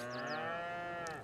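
A cow in a small cow pasture in Farming Simulator gives one long, sustained moo, a rich droning call that holds steady before tailing off, heard alone without talk.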